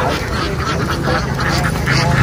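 A flock of ducks being herded across a field, many quacking at once in a dense, continuous chorus close by.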